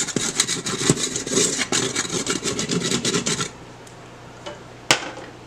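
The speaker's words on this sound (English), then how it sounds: "So we're going to try and scrape some of these crummy bits off the bottom of your pan." Browned bits are scraped off the bottom of an Instant Pot pan while making honey garlic pork chop chunks, a close, rapid rasping scrape lasting a few seconds, then fading to quiet with a single sharp knock near the end.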